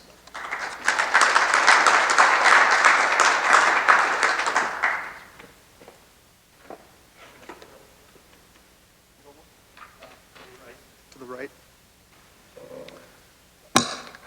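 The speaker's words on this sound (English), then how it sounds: "Let's bring a round of applause for Brandon Mortensen" Audience applause welcoming Brandon Mortensen at a summit, a loud burst of clapping for about five seconds that fades out into quiet room sounds and scattered voices.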